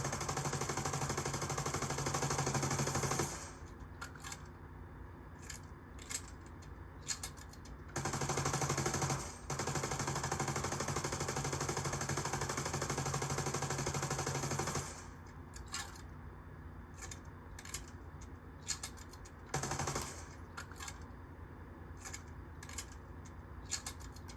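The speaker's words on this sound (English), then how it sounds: "The drum gun. This is based on a Thompson M1A1 with a drum mag and a foregrip." Rapid automatic fire from a video game drum gun modeled on a Thompson M1A1 submachine gun with drum magazine and foregrip, loud sustained bursts separated by short gaps and clicks.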